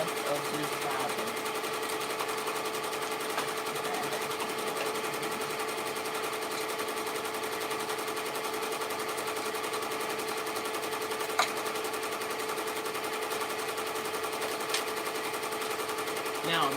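A sewing machine runs steadily and close throughout, using up the last of a bobbin, with a continuous rapid mechanical whir and a couple of faint clicks near the end.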